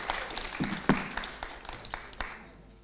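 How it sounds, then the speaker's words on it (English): Conference audience at Pacific Update 2019 applauding a speaker, scattered distinct claps over a soft wash of clapping that tapers off toward the end. "please everyone give Matt a big applause"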